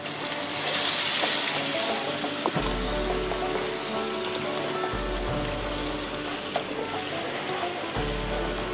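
Ginger garlic paste fries in a spoonful of oil in a saucepan, giving a steady, dense sizzle and crackle like rain on a surface, with low rumbling knocks partway through and no talking.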